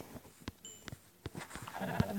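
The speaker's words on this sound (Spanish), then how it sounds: "Voy a dejar la oveja viva por ahora." A sheep bleats in a video game with short, fairly faint calls, mixed with scattered clicks and soft taps spread across the moment.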